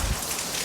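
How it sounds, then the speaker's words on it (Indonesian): Heavy rain falling, a loud dense hiss of drops drumming on surfaces that fills the whole moment evenly, with no voices. "Pas banget kita sampai hujan gede"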